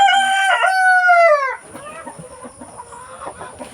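A rooster crows loudly up close, then chickens cluck softly in the background with scattered rustling.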